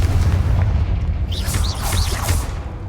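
A blasting-spell explosion in Hogwarts Legacy, a deep booming burst with rumbling low end followed by crackling debris and swooshing game effects, loud and close throughout.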